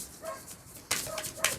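A dog barks outside, a few short yips and barks at moderate distance, faint and spaced out over low background noise.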